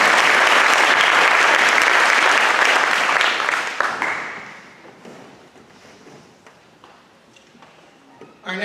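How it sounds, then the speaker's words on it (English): Spring band concert audience bursts into loud applause that holds for about four seconds, then thins to scattered claps and fades, with a sharp sound returning at the very end. "How about another round of applause for them?"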